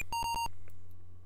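A short burst of electronic beeps comes from the Apple II game Caverns of Mordia, a quick run of about three or four pure-tone bleeps that stop abruptly, leaving only a faint hum behind.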